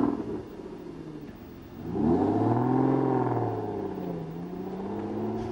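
An Aston Martin V12 engine fires up with a barking rise from the exhaust, then settles into a rich, smooth idle rumble that wavers slightly, close and clear.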